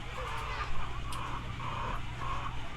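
Pet chickens cluck steadily in a backyard pen, with a bright call standing out near the middle over a constant low hum, fairly close and continuous.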